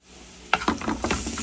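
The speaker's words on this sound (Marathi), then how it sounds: "मसाला जो आहे सगळा तो परतून घेऊ यात आपण" Spice masala hits a hot pan with a sudden sizzle, then several quick stirring scrapes keep it crackling over about a second, close and without speech.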